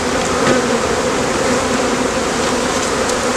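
Honeybees buzz steadily and loudly at an open hive during spring splits, a dense, close, continuous hum with no voices over it.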